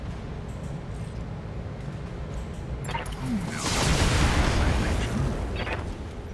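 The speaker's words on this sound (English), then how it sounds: "our Jenner can hopefully hit this Bulldog with the Gauss rifle" A Gauss rifle fires in the BattleTech game, a heavy booming impact rising over a steady low rumble of game ambience, loud and sustained for a couple of seconds before easing off.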